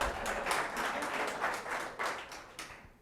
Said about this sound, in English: I'm going to clap. I'm going to make that 2.